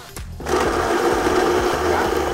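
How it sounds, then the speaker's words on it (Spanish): A blender whirs as it purées sauce for a mar y tierra molcajete. A brief click comes first, then a steady loud motor drone with a pulsing rhythm lasts to the end, and no one speaks. "Y esto lo vamos a licuar."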